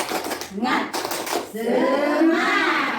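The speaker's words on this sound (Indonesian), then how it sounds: "Kita tepuk semangat dulu ya, seperti biasa gitu untuk membuka supaya lebih antusias" A group claps in quick rhythmic bursts followed by a loud shouted cheer from several voices, close and energetic.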